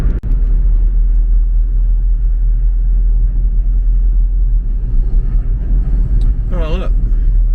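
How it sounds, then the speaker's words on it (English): A lorry drives along a road in passing traffic, a heavy continuous low rumble of engine and tyres filling the whole stretch, loud and close, while someone talks over it. "Got a lorry going along now."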